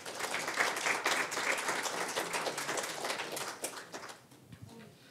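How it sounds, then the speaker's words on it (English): A congregation claps during its annual congregational meeting, a burst of many hands fairly close that holds steady and then thins and fades toward the end. "I really think that that deserves an applaud for you."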